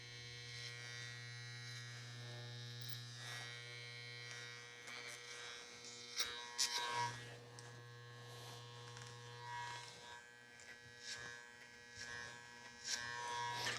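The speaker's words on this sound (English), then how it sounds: "and then we're going to close the clipper halfway." Electric hair clipper cutting a boy's hair over a comb, a steady close buzzing hum with brief scratchy bursts as the blades pass through the hair, no talking.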